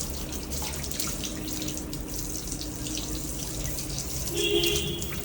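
Water runs steadily from a hose or tap while plants, walls and tiles are washed at home, a constant close splashing hiss with a brighter spray near the end.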